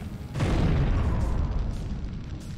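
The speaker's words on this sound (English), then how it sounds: "Hit grenade" Grenade explosion in Syphon Filter, a single deep boom that hits abruptly and rolls on as a sustained low rumble, loud and alone.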